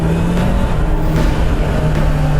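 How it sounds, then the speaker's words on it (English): A Honda motorcycle fitted with an E-clutch idles loudly nearby, its engine note pulsing steadily with a slight rise as the throttle is wound on, with no voices. "it won't take off until you wind on the throttle"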